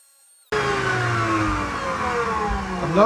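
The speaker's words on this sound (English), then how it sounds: "I'm going to move over to the bobbin sander. Okay, 150 grit. We're going to shape the cup." A bobbin sander with 150-grit paper, used for shaping a wooden slingshot, starts abruptly after a short silence and gives a steady motor whir with rising tones under a broad, close sanding hiss.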